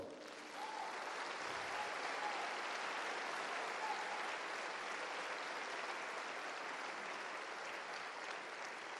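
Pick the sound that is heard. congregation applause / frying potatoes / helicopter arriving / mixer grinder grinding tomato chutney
congregation applause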